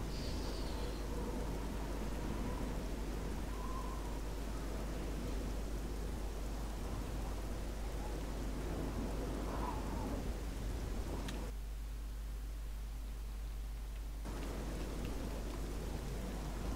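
Steady rain and rolling thunder fill a nighttime scene in the video game The Elder Scrolls IV: Oblivion. A continuous broadband hiss holds throughout at an even level, briefly dropping out for a few seconds near the end, with no talking.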